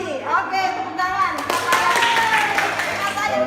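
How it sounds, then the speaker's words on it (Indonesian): A group claps hands at a humanitarian project presentation, a brief burst of applause mixed with overlapping voices and chatter. "oke, tepuk tangan."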